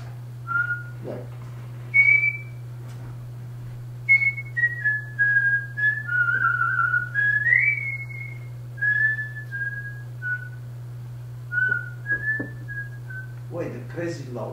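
A person whistles a wandering melody of long and short notes in a kitchen during a live cooking session, with a steady low hum underneath and brief pauses between phrases.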